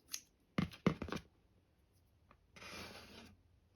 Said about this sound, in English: You'd want to take some scissors, and you would want to cut this part